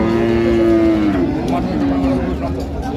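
A dairy cow or calf at Raniganj cattle market in Dinajpur lets out a long, loud, nearby moo that dips and then trails off, with market chatter and other voices underneath.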